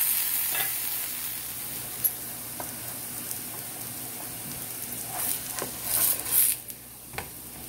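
A pesara (green gram) dosa frying on a hot pan gives a steady, soft sizzle throughout, with a few faint clinks and scrapes near the end.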